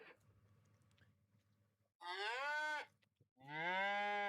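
Cattle in a calf barn on a farm in Farming Simulator 25 moo twice, each a long, full, close call, with a quiet low hum in the pauses between them.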